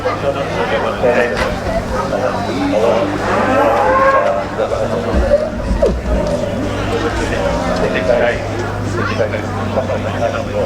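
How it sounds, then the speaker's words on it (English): Senior Sussex bulls low and moo in the cattle lines at an agricultural show, deep calls rising over a busy background of crowd chatter and nearby voices. "No, these are senior Sussex bulls."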